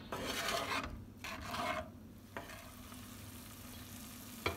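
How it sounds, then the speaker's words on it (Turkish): A creamy mushroom sauce, with milk added, is stirred in a pan for spaghetti, giving faint rasping, scraping strokes with short pauses and a low hum underneath. "güzelce karıştırıyoruz"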